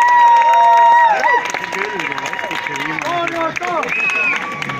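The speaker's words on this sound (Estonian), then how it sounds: "teeme suure-suure aplausi teie ees" A crowd applauds after a fire show at Vergi harbour's ancient lights night festival, with scattered clapping and cheering heard under someone talking loudly over it.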